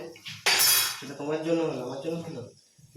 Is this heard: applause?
no